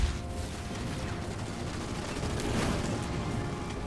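Base in the Halo Wars 2 real-time strategy game being blown to pieces, a dense continuous rumble of explosions and gunfire with no clear gaps, steady and loud throughout.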